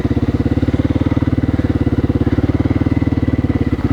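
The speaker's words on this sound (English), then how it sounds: "that motor seems to run pretty good" An assembled motorcycle engine built from worn parts runs steadily close by, with a loud, fast, even thumping pulse and a rough mechanical rattle, no talk over it.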